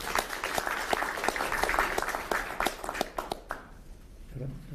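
At a Korean political party's price-inspection meeting, an audience claps for a few seconds with a crowd-wide patter that thins out and stops, leaving a quiet room with faint voices.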